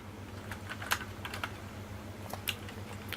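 Light keystrokes tap on a computer keyboard in a short irregular burst, soft and close over a faint steady electrical hum.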